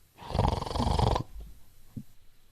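A voice imitates loud snoring: one long rasping, rumbling inhale followed by a couple of soft snorts and breaths.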